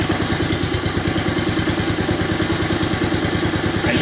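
A small Honda lawn mower engine idles low and steady, its rapid chugging pulse continuous and close, with no voices.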